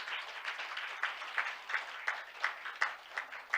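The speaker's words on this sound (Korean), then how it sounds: "큰 박수 부탁드리겠습니다" An audience at a maritime safety and logistics conference in Korea gives a round of applause, with moderate clapping swelling in repeated pulses and continuing throughout.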